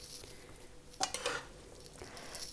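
A spoon stirring chicken macaroni pasta with vegetables in a pan, with a few close scraping clatters of metal against the pan over a soft background hiss.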